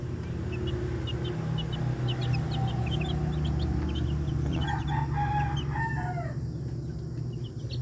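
Two-day-old chicks freshly hatched from a DIY incubator give faint, high peeping in short clusters over a steady low background hum, while a rooster crows in the distance partway through.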